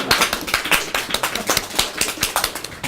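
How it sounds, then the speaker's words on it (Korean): A small audience at a Korean book launch talk gives a round of steady clapping, dense overlapping hand claps for about three seconds with no voices over them. "분위기 환기를 위해서 박수 한번 치고 넘어갈까요?"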